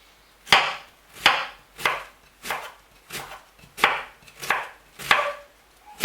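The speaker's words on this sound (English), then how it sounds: "both cabbages are supposed to be chopped into sizes like this" A knife chops cabbage on a board for a Cameroon-style vegetable salad, with eight evenly spaced, crisp chops, close and clear, and no talking.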